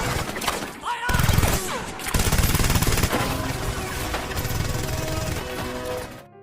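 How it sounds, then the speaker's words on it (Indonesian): Sustained machine gun fire from a war film battle scene, dense rapid bursts and heavy impacts filling the mix loudly and continuously for several seconds. "Mereka yang nekat keluar pun langsung dihujani tembakan."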